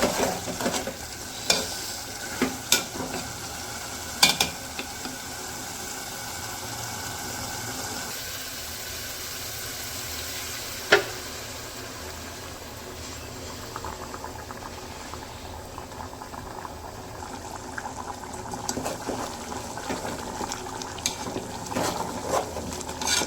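Meat simmers in a pot and gets stirred, a steady bubbling, sizzling bed with scattered clinks and scrapes of the utensil against the pot, close and continuous throughout.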